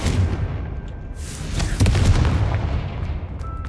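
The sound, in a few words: Confringo explosive spell cast in Hogwarts Legacy video game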